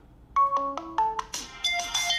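A Lenovo Vibe P1m smartphone plays its ringtone loudly through the speaker: a rising sequence of bright electronic tones that swells into a fuller, layered chime, with no voices.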